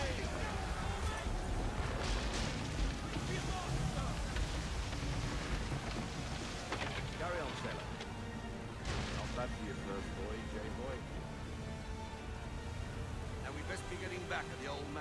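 Ship cannons booming in Assassin's Creed III naval combat, heavy repeated blasts and rumbling over a constant roar of wind and sea, with voices shouting commands amid the noise.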